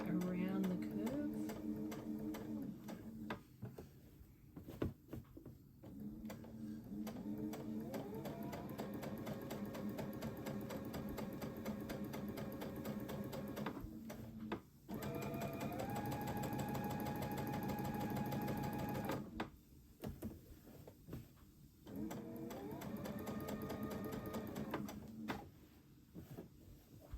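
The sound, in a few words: sewing machine stitching around a curved corner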